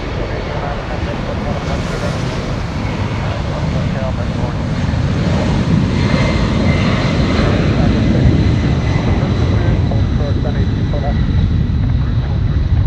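A Delta jet airliner departs at Los Angeles International Airport with a loud, sustained engine roar that swells and holds, while a voice talks over it.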